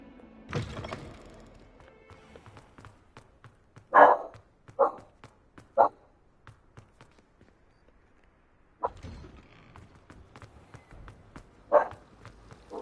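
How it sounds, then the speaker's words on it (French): A dog barks in scattered bursts, a few sharp barks spaced seconds apart with a quiet gap mid-way, fairly close by. "Elle m'énerve à aboyer."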